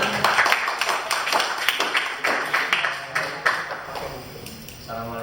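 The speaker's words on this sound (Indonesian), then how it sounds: "Terima kasih, tepuk tangan." The audience at an evening discussion event claps in a burst of irregular, close-sounding claps that gradually trails off, with no voices over it.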